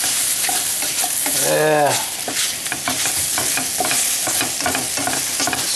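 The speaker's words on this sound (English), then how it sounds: "Seriously scorching of the potatoes." Potatoes fry and scorch in a stone-coated skillet with a loud, close, continuous sizzle and scraping stirs, and a short voiced sound partway through.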